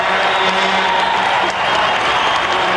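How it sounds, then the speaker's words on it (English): Crowd applause and cheering fill an ice hockey arena during a 1997 junior game between the Prince Albert Raiders and Regina Pats, a dense continuous roar from the stands with a commentator speaking over it. "Paul Barnby starts the crowd with a little bit of applause"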